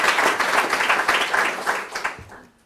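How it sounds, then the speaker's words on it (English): An audience applauds at a distinguished lecture series event, steady dense clapping that runs loud and continuous before thinning and fading away at the end. "I'd like for you to give a round of applause for Ramon Rodriguez."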